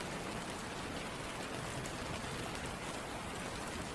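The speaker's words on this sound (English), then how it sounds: "listen to the gentle sound of the rain" Gentle rain falls as a steady, even hiss of countless drops with no pauses, filling the background evenly with no voices.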